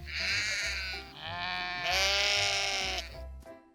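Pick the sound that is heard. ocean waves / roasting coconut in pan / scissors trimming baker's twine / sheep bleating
sheep bleating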